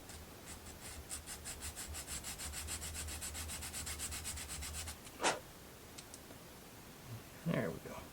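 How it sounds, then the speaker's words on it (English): Trimming a small piece for a Count Cat's Study book nook kit, with a steady run of light rubbing, scraping strokes for several seconds, then a single sharp snap and a brief rustle near the end. "I'm trimming the wrong way. Let me do that from the front to back."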